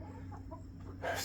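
Backyard chickens cluck softly and faintly against a low background hum, with a brief louder burst of clucking at the end.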